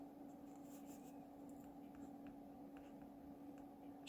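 Pen or pencil writing out names on a watercolour swatch card, a faint, close, steady scratching with short strokes throughout, quiet and without talking.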